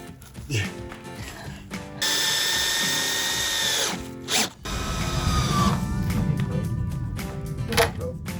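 Bursts of a power drill whine into soft wood start and stop several times, mixed with people talking and handling noises nearby in a termite-infested barn.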